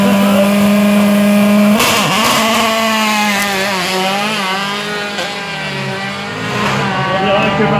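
Marcel Sapin's single-seater race car at the Bettant hill climb screams close and loud through rising and falling revs, with sharp upshift dips and throttle blips, while a commentator talks over it.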